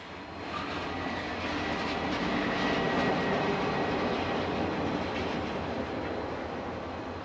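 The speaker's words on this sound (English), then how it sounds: "we see DFB 7295 leading train 102 into the station" DFB 7295, a diesel locomotive, leads train 102 into a station in Auckland, New Zealand. A loud, steady rumble of engine and rolling wagons swells and holds close by, with no talk.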